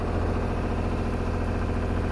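A boat engine runs steadily in an ICW channel near Vero Beach, a continuous low idling drone with a throbbing low-end pulse and no voices.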